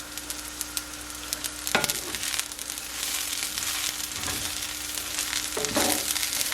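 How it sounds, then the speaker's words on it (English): Angel hair pasta browns in a pan for turkey soup, a steady moderate sizzle and crackle with a low hum beneath and a few sharper scraping stirs. "I'm going to kind of let this pasta brown up a little bit"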